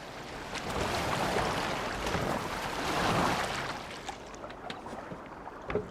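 Water sloshes and washes around a moving boat in the video game Assassin's Creed Valhalla in two swelling surges, with small splashes and drips toward the end; no voices.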